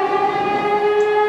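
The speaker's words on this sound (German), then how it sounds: "die Sirene ging an" An electronic alarm siren on a Rex RS 700 scooter sounds as a steady, piercing multi-tone wail, close and loud, holding without a break through the short moment.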